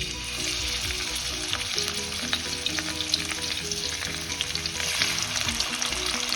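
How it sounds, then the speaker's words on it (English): Hilsa fish frying in very hot mustard oil, a dense, steady sizzle and crackle with no voices, continuous and close throughout. "The oil needs to be very hot, and once you put in the fish, just lower the flame."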